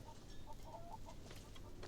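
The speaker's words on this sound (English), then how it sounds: "I ended up finding the last rooster needed to complete the collection." Rooster clucks from the video game Far Cry 6, a few short clucking calls in a row over steady low game ambience, fairly soft and with no talking.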